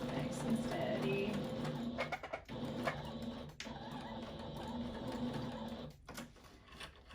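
A sewing machine feeds and stitches fabric for an upcycled face mask, running in a steady close hum that breaks off briefly a few times, with no clear talking over it.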